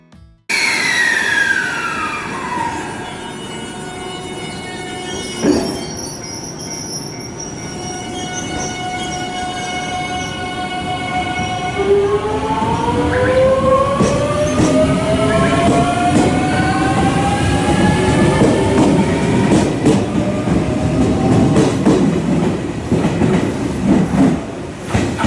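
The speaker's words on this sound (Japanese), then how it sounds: "続いて乗っていきます列車が到着、白鷹559号、長野駅を12時8分に発車する" A train pulls into the platform at Nagano station, its steady rumble and rail clatter building over about 25 seconds, with squealing brake tones and rising pitch lines as it slows, loud and close with no voices.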